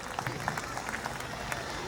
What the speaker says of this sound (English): Let's have a huge round of applause for all our ex-fortunates.